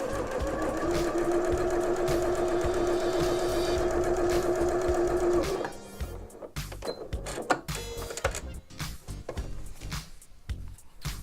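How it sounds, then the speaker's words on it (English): A sewing machine stitches a quilt seam for about five and a half seconds in a steady, close, rapid whir. It then stops, followed by clicks, fabric handling and small knocks as the work is moved. "we're going to take it over the sewing machine and we'll be sewing right on the line"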